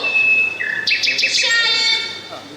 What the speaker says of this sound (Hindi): मेरी पंछी क्यों बुला रही हो?